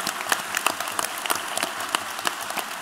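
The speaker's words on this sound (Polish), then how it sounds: "Wielkie brawa" Audience at a stage talk during a fan convention breaking into brief applause, close energetic clapping from a modest crowd with distinct individual claps audible throughout.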